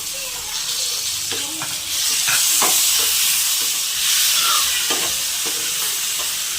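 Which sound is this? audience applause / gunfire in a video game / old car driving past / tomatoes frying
tomatoes frying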